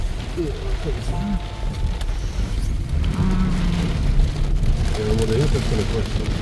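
Steady, dense rain drums on a car close by, heard from inside, a continuous hiss and patter with voices talking over it.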